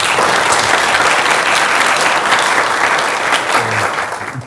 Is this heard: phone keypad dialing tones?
no